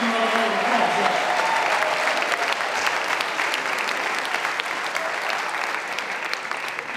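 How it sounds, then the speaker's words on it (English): An audience at a centenary concert gives a band with keyboards and saxophone steady, sustained applause. The crowd claps evenly throughout, and a faint whistle rises near the start. "so let's give them a round of applause"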